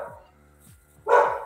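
Dogs bark indoors, a faint yip at the start and then one loud, sharp bark near the end, with quiet gaps between.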